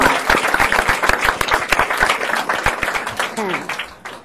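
Audience clapping at a regular school board meeting, scattered sharp claps from a modest crowd close by, with a voice speaking over and through the applause as it tapers off.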